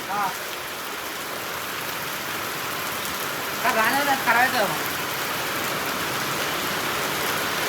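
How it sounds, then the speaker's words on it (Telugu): Steady rain pouring down outdoors, a dense even hiss throughout with a couple of brief tonal sounds and faint voices midway. "రాత్రంతా పడతాంట వర్షం చూసినావా"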